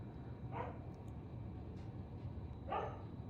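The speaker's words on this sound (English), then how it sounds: "the dogs are losing their minds" Two short dog barks ring out indoors about two seconds apart, fairly faint and set against a steady low background hum, the dogs set off by a car horn honking outside.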